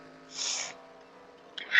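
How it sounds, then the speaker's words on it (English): A single short nasal sniffle near the start, close and fairly soft, followed by a quieter breath and another brief sniff at the end. "Sorry, sniffles, guys."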